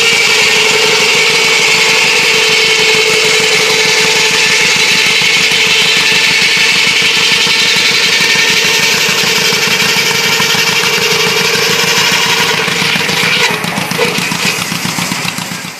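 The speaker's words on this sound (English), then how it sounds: "This John Deere D is hooked up to a shingle cutting sawmill." A John Deere D tractor engine drives a shingle-cutting sawmill at a threshermen's reunion, its loud, steady, close, low putting beat running throughout without pause.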